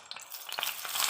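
Fresh mackerel frying in a little oil in a pan gives a steady hiss and crackle that swells toward the end, with a few faint pan sounds and no voice.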